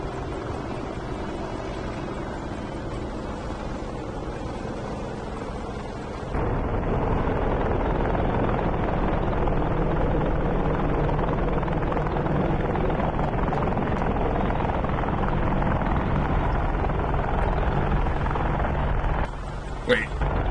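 AH-64 Apache helicopter in DCS World with a badly damaged main rotor gives a loud, continuous rumbling drone that swells after a few seconds and cuts out briefly near the end.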